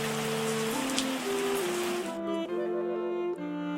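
Steady, close rain pours down in a wine-making tycoon simulation game, heard alone with a soft synthetic musical tone underneath.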